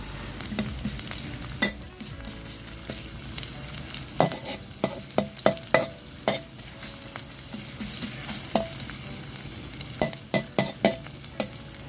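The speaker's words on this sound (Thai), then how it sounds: "แล้วก็ผัดหอมแดงกระเทียมลงไปก่อนค่ะ" Shallots and garlic stir-fried in a pan for a Thai Shan-style pickled mustard greens and pork belly dish, a steady close sizzle broken by repeated sharp scrapes and taps of the spatula, with no talking.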